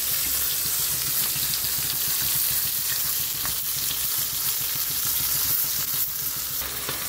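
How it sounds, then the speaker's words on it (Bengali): Pomfret fish frying in a pan, with a steady, dense sizzle that holds loud and close for the whole stretch and carries a few soft crackles. "একটু ভেজে দেবো।"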